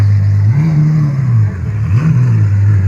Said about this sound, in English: That V12, naturally aspirated, I believe.